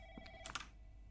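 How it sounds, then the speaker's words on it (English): A telephone rings faintly in the video game Hemoglobin Project, a short burst of quiet bell-like tones with a few clicks, heard at a distance in a repetitive hallway. "But I do hear the phone, so that certainly draws you in a particular direction."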